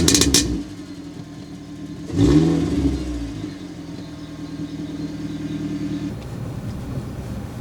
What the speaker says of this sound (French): Je n'accélère pas, je n'ai fait que lâcher l'embrayage.